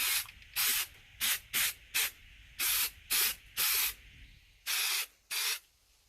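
Aerosol spray paint can fired in about ten short, sharp hissing bursts of varying length, close and loud, used for test spraying and dusting a motorcycle fork leg.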